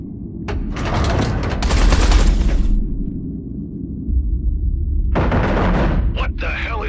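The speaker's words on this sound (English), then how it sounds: "Eduardo, concentrate artillery fire on Blakemore's carrier." Heavy artillery and gunfire from a space combat game erupt in dense, loud bursts against a carrier, fading to a rumbling lull before another sharp volley strikes.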